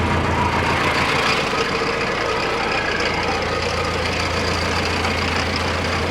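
A Mahindra Novo 605DI tractor (2023 model, CRDI engine) runs steadily under heavy load in power mode, a loud continuous low rumble with a rough mechanical drone and no break throughout.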